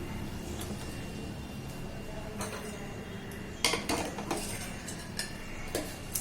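Hot cooked puran, the sweet lentil filling, pressed and rubbed through a metal sieve with a glass, a quiet ongoing scraping with sharper metallic clinks and taps at irregular intervals.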